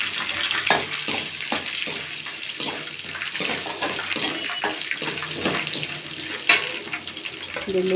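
Mustard seeds, curry leaves and garlic dropped into hot oil with urad dal for tamarind rice, a close, busy crackling sizzle with spatter pops and stirring scrapes, and a brief louder flare near the end.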